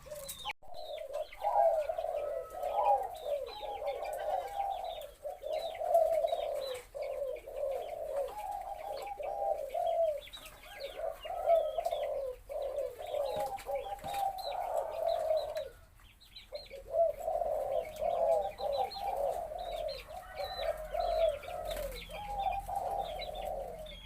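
Repeated low, rhythmic cooing phrases from a white spotted dove breeding male, loud and close, with brief pauses between calls and faint chirps from other birds in the background; no talking.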